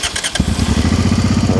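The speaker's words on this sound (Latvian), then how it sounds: "Piedarbināsim moci." A Honda XL650V Transalp motorcycle engine cranks briefly with a starter whir, then fires and settles into a loud, steady, throbbing idle close up, with no talking.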